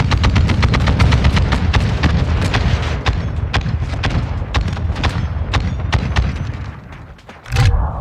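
Rapid video-game gunfire from Call of Duty, a dense run of sharp shots and booming rounds crackling steadily for several seconds, loud and close, dropping off briefly before one last burst.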